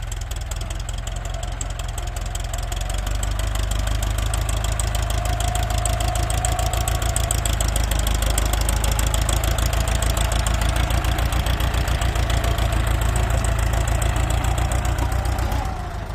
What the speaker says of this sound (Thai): ฟอร์ดหกสี่ศูนย์นประหยัดน้ำมันก็แบบนี้แหละพี่น้อง รอบเครื่องนี้ไม่ได้เร่งเลยนะครับ